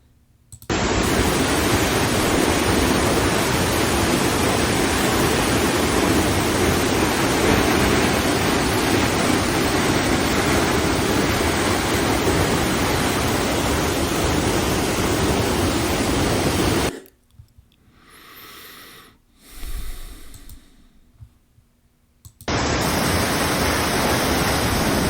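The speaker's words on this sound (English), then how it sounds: "Still shot of falling water." Falling water at Dry Falls, North Carolina roars as a loud, steady broadband rush for most of the span, then drops away into near-silence with faint, low movement before the torrent returns at full strength.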